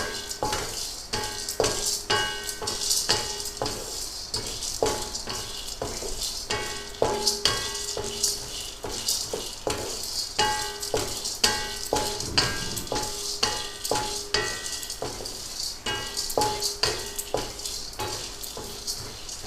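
Ingredients for idli podi dry-roasting and being stirred in a pan: a steady sizzle with frequent scraping strokes of a spoon against the metal, close and continuous, with no talking.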